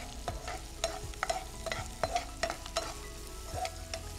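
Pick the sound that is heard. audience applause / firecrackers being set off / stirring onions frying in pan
stirring onions frying in pan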